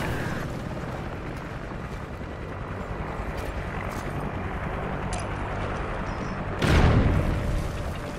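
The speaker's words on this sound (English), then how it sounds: "Friendly chopper inbound." A friendly MI-24 helicopter arrives in the video game Call of Duty Ghosts, with a low rotor rumble under the battle noise that swells into a loud whooshing burst near the end.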